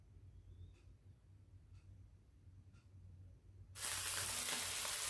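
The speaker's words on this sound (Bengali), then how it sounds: "এবার মাছগুলো আমি কড়াইতে দিয়ে ভেজে নেব।" Small mourala fish dropped into hot oil in an iron wok, a quiet low background with a few faint clinks before a sudden loud, continuous sizzle erupts and holds.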